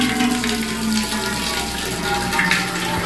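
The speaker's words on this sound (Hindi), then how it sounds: "पानी निकाल लेते हैं" Running water pours from the tap of a gas geyser in a home, a steady broadband rush heard close and continuous throughout, with a faint hum beneath.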